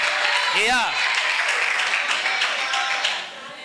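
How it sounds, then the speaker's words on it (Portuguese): A church congregation applauding during a sermon, a dense wash of clapping that carries on under a preacher's voice and fades toward the end. "vocês estão aplaudindo a minha conta"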